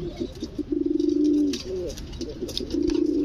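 Pigeons for sale coo continuously in a close, repeated low rolling pattern, with a few brief rustles and taps around them and no voices.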